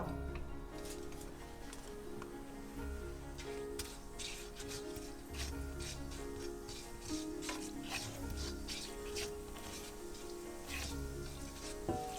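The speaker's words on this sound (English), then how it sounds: "once the cumin seeds start sizzling a little bit" Cumin seeds sizzle faintly in hot oil in a pan, a soft steady crackle with light scattered ticks and pops, quiet and alone throughout.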